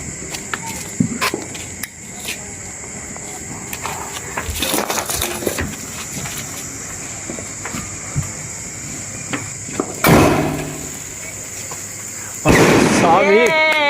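Diwali firecrackers bursting during a family celebration, several sharp loud bangs scattered across the scene with crackling and one big blast near the end, while people talk and call out nearby.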